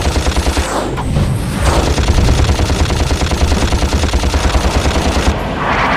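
A machine-gun weapon in the video game Ratchet & Clank fires in a loud, sustained stream of rapid rattling shots that runs the whole time, with a few brief bursts of louder blasts mixed in.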